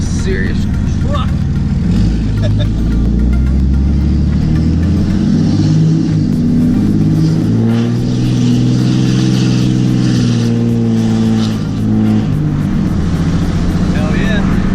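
A 2017 Ram pickup with 4.56 gears and AAM differentials drives along, its engine climbing and falling in pitch as it accelerates and shifts, a steady cabin rumble with voices talking over it.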